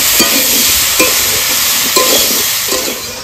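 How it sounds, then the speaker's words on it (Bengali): Mixed vegetables and malabar spinach stems sautéing in hot oil for a vegetarian dish, a steady continuous sizzle with periodic louder scrapes and stirs roughly every second, close up with no talking. "সব সবজিগুলো কষিয়ে পুঁই ডাঁটাগুলো দিয়ে দিচ্ছি"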